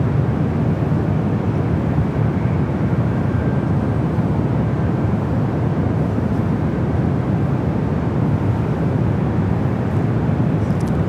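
Air India Boeing 777-300ER airliner arriving at San Francisco airport, a steady, loud low engine roar that holds evenly throughout, with a faint whine above it.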